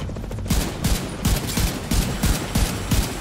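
Gunfire in The Division 2 video game, with repeated sharp bursts of shots at a steady rhythm, loud and close, with no talking.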